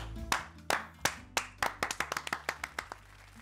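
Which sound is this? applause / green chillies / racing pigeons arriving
applause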